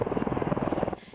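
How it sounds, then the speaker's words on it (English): A firefighting helicopter dropping water on a wildfire beats its rotor in a fast, steady thump, fairly close and loud, and cuts off abruptly near the end. "Helicopters swung across the sky, dropping loads of water, trying to stop the march of flames."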